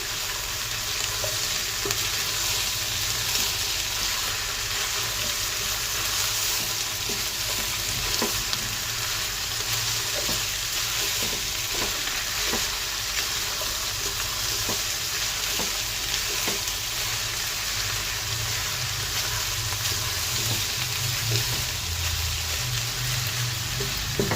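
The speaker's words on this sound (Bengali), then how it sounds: "একটু নেড়ে চেড়ে দিচ্ছি টেস্টি সল্ট দিয়ে" Chicken and vegetables stir-fried with tasting salt, a constant loud frying sizzle with frequent small clicks and scrapes of a spatula against the pan, steady for the whole stretch with no talking.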